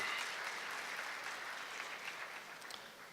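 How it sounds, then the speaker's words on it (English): A conference audience at a United Nations ministerial roundtable gives a brief round of steady clapping, heard faintly and at a distance, holding even for about three seconds. "We need to clap for that."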